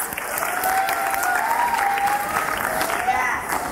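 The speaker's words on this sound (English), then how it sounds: "Give yourselves a round of applause." A school audience at a secondary schools poetry slam in Trinidad bursts into steady, dense applause, many hands clapping together at close range with a faint voice and crowd murmur underneath.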